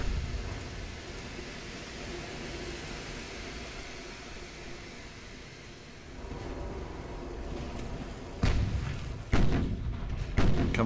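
Naval artillery from an enemy ship in Ultimate Admiral: Dreadnoughts, an 1890s British naval battle: a low sea-and-engine rumble, then a few sharp gun blasts near the end.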